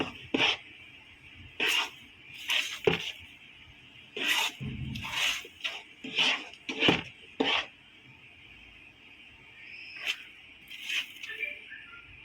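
Adhirasam dough is stirred in a pan with a spoon, making repeated scraping and knocking strokes in short irregular bursts close by, over a steady faint background hum.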